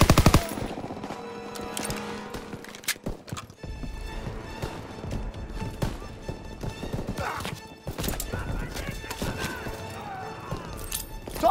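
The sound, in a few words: machine gun fire in video game Call of Duty WW2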